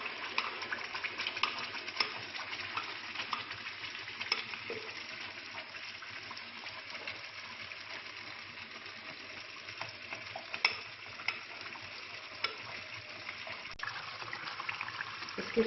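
A spice mixture sizzles in hot oil as a chicken laziz karahi is made, a soft, steady frying hiss with occasional stirring clicks, close but quiet, with no talking.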